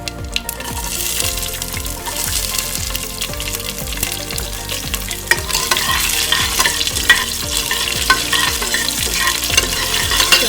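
Garlic and curry leaves sizzle loudly in hot oil for a stingray curry, with steady frying hiss and a rhythmic scraping of a spoon stirring through the pan, running continuously with no talk.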